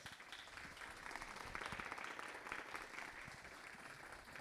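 Applause from an audience closing a panel discussion among women activists: a warm wash of many hands clapping, with individual claps popping out near the front, steady and fairly even for several seconds.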